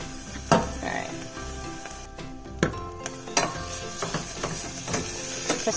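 Stirring lentil dish ingredients in a hot pan, with a sizzling backdrop and repeated scraping, clattering strokes of a utensil against the pan, close and fairly loud, under occasional speech.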